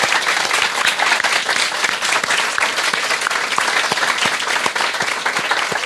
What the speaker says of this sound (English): a big round of applause for those folks